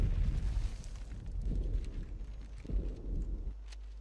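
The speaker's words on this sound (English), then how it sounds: "They're dropping nades. Watch out." Grenade blasts in the Ghost Recon video game: loud, booming low rumbles that swell and recur several times over a few seconds, with no voices over them.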